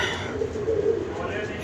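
Pigeons released for a rooftop flying contest, with soft cooing and bird calls over steady outdoor background noise, while people talk nearby.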